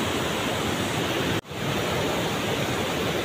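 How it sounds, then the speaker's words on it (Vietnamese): A clear forest stream flows steadily, a loud, dense rush of water close by that continues without pause apart from a brief dip partway through. "Đây con suối thăm nước rất đẹp, nước ở đây rất là trong nhá"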